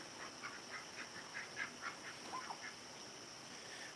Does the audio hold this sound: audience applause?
no